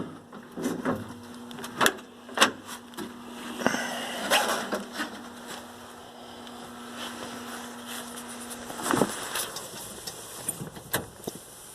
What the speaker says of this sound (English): Yes, it's turning over, and I believe I have a stuck valve.